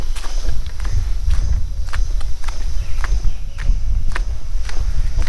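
Footsteps crunch steadily along an outdoor trail in Shimla, Himachal Pradesh, a regular close walking rhythm over a low rustling ambience with faint insect chirps.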